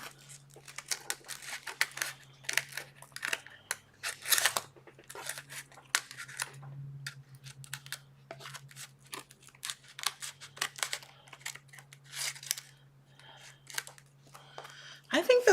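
Teal scissors snip away excess paper on a turtle mandala shadow box craft, giving repeated short crisp cuts and crinkles close by, with a person talking intermittently throughout.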